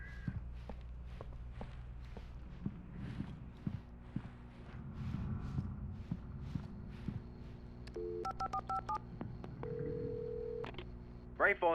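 Footsteps give way to a short run of phone keypad tones and a held tone as a caller dials from the gas station in the video game Alan Wake Remastered. The sounds are quiet and close.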